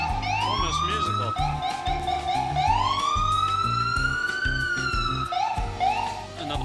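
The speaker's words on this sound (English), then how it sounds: "Already there's a lot of whoop whoop sirens." Police sirens wail and whoop in New York City, rising and falling repeatedly over low city traffic rumble, fairly close and loud.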